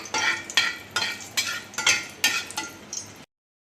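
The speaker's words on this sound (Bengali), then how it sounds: "তেল গরম হয়ে গেছে, আমি শুকনা মরিচগুলো খুব ভালোভাবে এখানে ভেজে নিব।" Dried red chillies fry in hot oil, giving a close, crackling sizzle broken into about seven stirring bursts, each rising sharply and then easing off, with no voices present.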